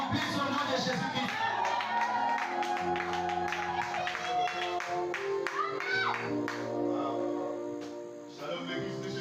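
Church congregation clapping and cheering during a French-language evening service, dense rhythmic claps over organ or keyboard chords and sustained crowd voices, fading slightly toward the end.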